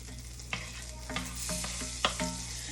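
Shrimp seasoned with paprika stirred in a frying pan, a soft steady sizzle broken by a handful of sharp utensil scrapes and taps against the pan.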